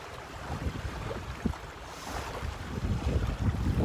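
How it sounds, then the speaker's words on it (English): Gusty outdoor wind buffets the microphone at a scenic roadside stop, a rough broadband rush that swells louder toward the end with no talking. "Here comes the wind."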